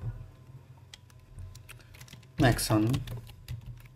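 Computer keyboard typing a database name while installing WordPress locally with XAMPP on a Mac, a few soft clicks at low level before someone speaks briefly.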